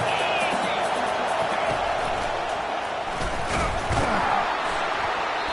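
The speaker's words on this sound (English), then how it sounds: "Decibels rising as the crowd gets behind this defense on 3rd down." Stadium crowd noise in College Football 25 during a 3rd-down defensive stand, a dense sustained roar of cheering that swells slightly, with a commentator's voice faintly under it.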